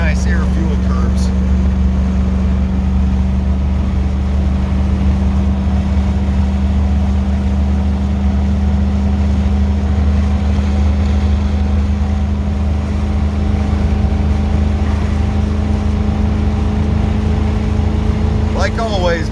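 A vehicle with a 1988 460 engine on 43-inch military tires lugs and pulls under load in gusty wind, giving a loud, steady, low engine drone with wind rush throughout.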